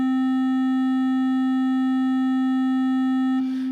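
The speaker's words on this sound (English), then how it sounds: "let's send just some noise through it so we can hear it a little more clearly" Noise fed through the Nirvana resonator plugin rings out as a steady, loud stack of sustained pure tones, holding evenly before a short burst of hiss near the end.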